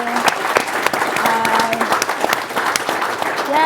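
An audience at a conference claps for a panel, crisp applause of many hands filling the room, with a few faint voices mixed in underneath.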